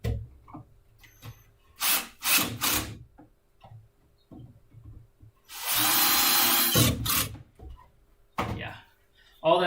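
A power drill drives screws into wood in one loud whirring burst of about two seconds, with knocks and handling sounds around it and voices talking before and after.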